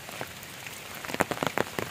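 Rain falling outdoors, soft scattered patter at first that grows into a cluster of sharper drops hitting a surface, with no voices.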